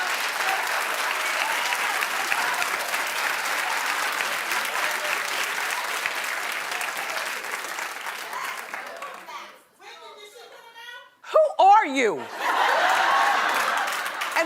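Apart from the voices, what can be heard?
studio audience applause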